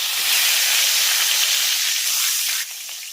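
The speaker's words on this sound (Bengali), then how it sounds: "ফোড়নগুলোকে আমি কয়েক সেকেন্ডের মতো হালকা করে একটু ভেজে নিয়েছি" Whole cumin, fennel seeds and bay leaves sizzle in hot oil, a loud, steady, close hiss of frying that drops off slightly near the end, with no voices.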